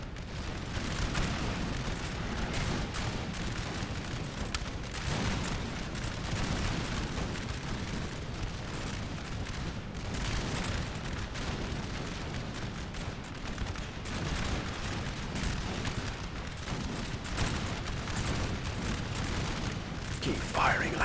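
Sustained musket volleys and booming artillery fire from a Napoleonic battle in the Napoleon: Total War strategy game, a dense, continuous barrage of gunfire and cannon blasts with a faint voice beneath.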